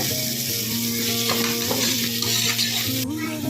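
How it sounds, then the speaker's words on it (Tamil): Mashed tomatoes sautéed and stirred in a pan, a steady close sizzle with repeated scraping stirs throughout and no voices. "வதக்கி விட்டுடலாம் ஃப்ரெண்ட்ஸ் தக்காளியும் நல்லா மேஷ் ஆகிடுச்சு"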